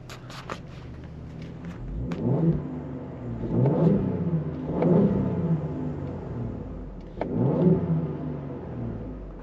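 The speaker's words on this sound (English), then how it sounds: "I'll go ahead and turn the air off so you guys can hear some revs" An Aviator's engine with a Borla S-Type performance exhaust revs repeatedly, rising and falling in several throaty bursts with a steady idle rumble between them.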